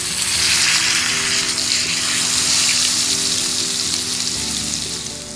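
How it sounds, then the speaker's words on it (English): Rib eye steaks and garlic frying in a skillet over medium-high heat, a loud, continuous close sizzle that holds steady throughout, with no talking. "These are gonna be grilling along or frying along with the steaks."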